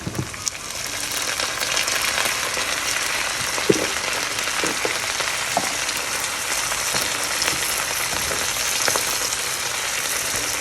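Bottle gourd greens and potatoes fry in a pan with onion, garlic and chili, giving a steady, even sizzle and crackle throughout, with a few soft clinks of stirring.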